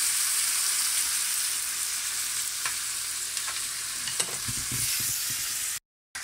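Cardoon stalks fry in a pan with chorizo, a steady close sizzle running throughout with a few light scrapes and stirring knocks near the end before a brief cut to silence.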